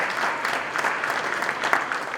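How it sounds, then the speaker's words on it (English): An audience at a conference event gives steady, dense applause, a continuous wash of many hands clapping at moderate distance, with no talking over it. "Let's please give him a big round of applause."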